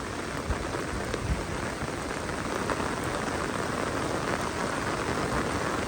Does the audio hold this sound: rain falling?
yes